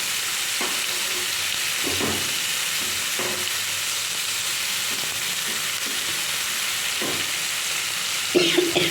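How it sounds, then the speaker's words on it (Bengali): Chopped beto shak greens stirred in a frying pan, a steady sizzle running throughout with soft scraping strokes at intervals and a louder clatter near the end. "তারপর আমি কেটে রাখা শাকটা আমি দিয়ে দিলাম শাকটা দিয়ে একটু ভালো করে নেড়ে চেড়ে নেবো"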